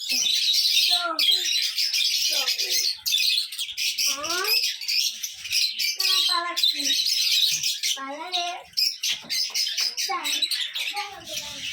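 Many small caged birds chirp and tweet busily at close range, a constant high twittering layered with sharper squeaky calls.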